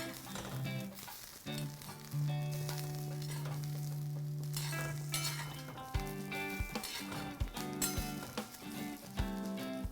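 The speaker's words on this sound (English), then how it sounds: "Going to add 7 to 8 small cloves of garlic and an inch of ginger. And I'm going to fry this for another minute or so." Small garlic cloves and ginger frying in a pan for mutton curry, a steady sizzle with occasional utensil clinks and stirring, partly masked by tonal background music.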